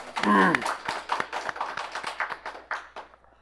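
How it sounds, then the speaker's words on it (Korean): Audience at a health lecture on obesity clapping in a steady run of distinct claps, with a voice heard briefly at the start before the clapping carries on alone. "박수 한번 칠까요?"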